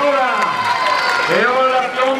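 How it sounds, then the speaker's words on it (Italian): A crowd applauds the team captain at a children's palio in Ponzano Veneto, clapping mixed with loud, excited voices and cheering. "Un applauso al capitano!"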